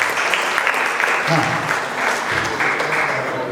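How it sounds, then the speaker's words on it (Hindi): Loud, sustained applause from an audience at a Sai Temple event in Melbourne fills the space as a dense, even patter of clapping, with a voice briefly heard over it. "एक बार जोरदार तालियां।"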